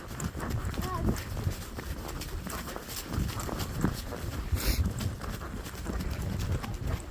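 Horses plod along a hilly countryside path with up and down slopes, hooves clopping steadily under ongoing conversation and ambient outdoor noise.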